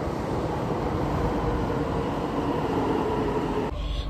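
A Delhi metro train arriving at a station near the Red Fort, a loud, steady rumbling roar with rushing air that cuts off abruptly near the end.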